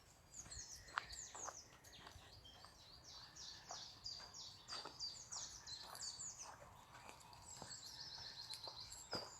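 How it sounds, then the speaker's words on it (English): Wild birds chirping outdoors in a quiet spot, several overlapping high tweets and trills, some nearer and some distant, over faint background noise, with occasional soft rustles or footsteps. "They're all chirping away as if nothing's happening."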